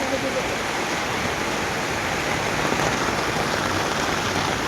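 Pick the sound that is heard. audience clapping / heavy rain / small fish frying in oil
heavy rain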